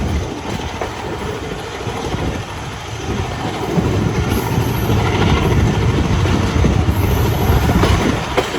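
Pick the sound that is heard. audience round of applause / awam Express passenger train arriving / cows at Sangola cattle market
awam Express passenger train arriving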